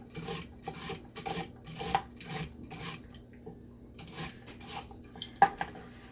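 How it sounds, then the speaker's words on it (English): Carrots are scraped with a hand peeler in a home kitchen, giving a close series of quick, rhythmic rasping strokes separated by brief pauses, with no talking. "by peeling our carrots"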